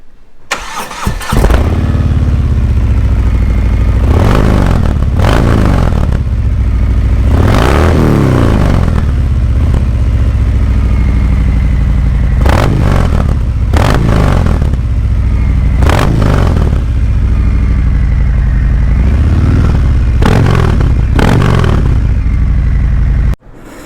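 A Harley-Davidson Fat Bob motorcycle engine cranks and starts, then settles into a loud, rumbling idle broken by repeated sharp throttle revs that rise and fall in bursts, close up with no talking.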